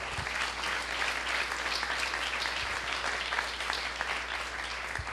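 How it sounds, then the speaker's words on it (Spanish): Steady, dense applause from a church congregation fills the room, loud and continuous throughout with no talking over it. "¿Cuántos aplauden el nombre del Eterno?"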